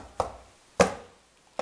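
Garlic pounded in a mortar at home: three distinct dull thuds spaced roughly evenly, close and moderately loud, with quiet pauses between strikes.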